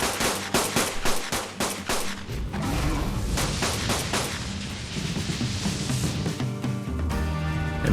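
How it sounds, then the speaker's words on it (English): Gunshots fired into the air in ARK, a rapid volley of sharp cracks at the start giving way to dense, overlapping firing and booms, loud and close with no speech. "shooting bullets into the air."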